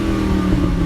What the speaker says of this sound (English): If you're on overrun, if you let off the gas at a high RPM, it just cackles and pops and draws as much attention to itself as possible.